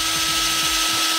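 A power drill bores through a diamond, giving a steady, loud high-pitched whine with a low grinding rumble underneath, continuous and close.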